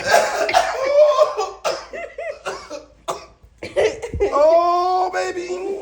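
Someone coughs a few times in a casual home conversation, with laughter and excited talking voices around the coughs.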